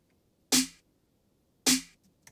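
Two sharp snare drum hits, a layered acoustic and 808-style snare in a beat, land about a second apart, each loud and bright with a short decaying tail, alone against near silence.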